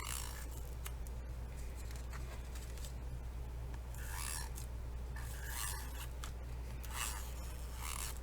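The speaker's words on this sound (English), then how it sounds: "I'm going to be using my little tape runner here," A small mouse-style tape runner lays adhesive tape onto paper craft material, giving faint dry scraping and rasping strokes in several short bursts over a low steady background hum.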